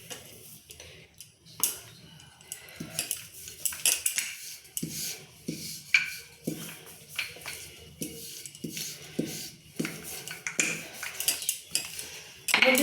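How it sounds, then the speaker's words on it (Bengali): A rolling pin works pea-stuffed paratha (koraishutir porota) dough into a square on a board, giving irregular light knocks and clacks throughout with no talking. "আমি চৌকো করে কিন্তু বেলে নিচ্ছি"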